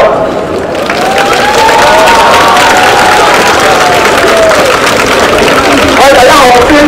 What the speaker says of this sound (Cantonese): 用我哋最大嘅掌聲俾我哋身邊嘅朋友